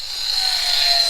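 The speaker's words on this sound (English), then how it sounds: "is cutting the concrete molding down to size," A power tool cuts concrete door molding during house construction in the Philippines, giving a steady, loud high-pitched whine with a gritty cutting hiss that holds for the whole short moment.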